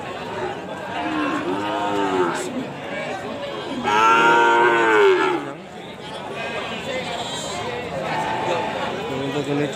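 Cattle at a busy livestock market moo in several loud, drawn-out calls, one especially strong in the middle, over a constant murmur of crowd chatter and people talking nearby.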